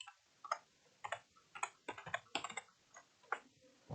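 C++ code typed on a computer keyboard, with close, crisp key clicks in irregular bursts and short pauses between them, heard alone with no talking.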